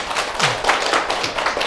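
An audience claps at a lecture on the Buddha's life at Dongguk University: a short, fairly quiet patter of hand claps in uneven bursts.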